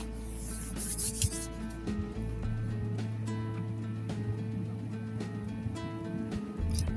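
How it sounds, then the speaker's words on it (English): Vegetables stirred into cooked meat in a pan while making filet mignon dirty rice: a continuous close scraping and rubbing of a utensil against the pan, steady and unbroken for several seconds. "Stir that up real good."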